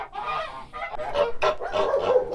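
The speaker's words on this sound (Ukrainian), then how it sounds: "гуси кричать, треба йти їх випускати" Geese honking loudly and close, several birds calling over one another in a noisy, overlapping chorus.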